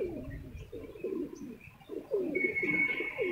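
Teddy, a well-known racing pigeon, coos in a series of soft, low, rolling calls close by, with short pauses between phrases and a faint higher chirp near the end.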